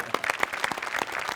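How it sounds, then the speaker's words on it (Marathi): Studio audience at a Marathi comedy show applauding in a brief, steady burst of dense clapping with a faint voice mixed in. "नाही तुझ्या अटेम्प्ट साठी टाळ्या"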